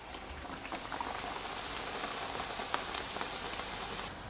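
A leek-filled dough pancake fries in hot oil, giving a steady, dense crackling sizzle that stays even and close throughout with no talking.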